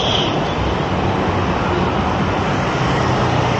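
Steady, loud broadband roar of dense road traffic at Balintawak Bridge near Monumento, Manila, filling the whole stretch without a break and with no voices.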